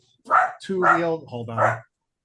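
Dog barking indoors, a few short bursts across about a second and a half, close and fairly loud, with voiced whine-like tones between barks.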